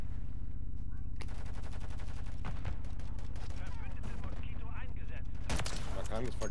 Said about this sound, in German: Ja, mit der Sniper No-Scope zu schießen